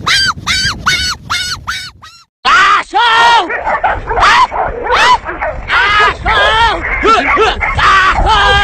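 A dog barks rapidly and repeatedly at close range, then a person shouts and talks over continued barking.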